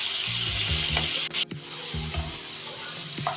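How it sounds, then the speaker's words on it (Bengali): Onions browning in mustard oil over a medium gas flame give a steady, loud sizzle and frying hiss throughout, with a few stirring clunks and scrapes of a utensil against the pan. "পেঁয়াজটা ব্রাউন করে ভেজে নিলে সরষের তেলের ফ্লেভারটা খুব সুন্দর আসে।"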